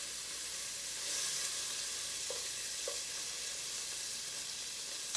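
Bacon frying in a skillet on a high burner, a steady loud sizzle and hiss of fat, joined by a couple of brief soft clinks, with no voices.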